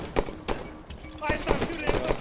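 Scattered gunshots in a Halo Forge slayer match, a few sharp bursts and single shots spread unevenly over the short stretch, with game voice and background noise.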